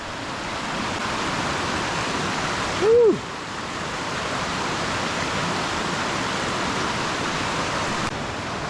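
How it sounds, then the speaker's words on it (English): A rushing creek at a hiking stream crossing fills the clip with a steady, loud broadband roar, and a person briefly whoops partway through. "big stream crossing number 2"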